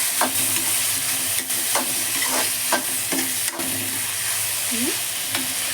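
Two large, finely chopped tomatoes fry in hot oil, a steady loud sizzle broken by regular scraping and knocking of a spoon stirring the pan.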